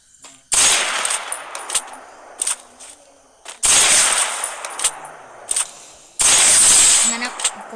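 Gunfire in the mobile game Free Fire comes in three loud bursts of rapid shots separated by pauses, with scattered single shots in between.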